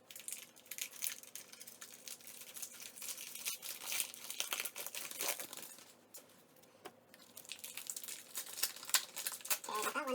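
Plastic wrapper on a 1990-91 Skybox basketball series 2 card pack crinkles and tears as it is opened, a quiet, irregular rustling that continues in bursts with a short lull midway.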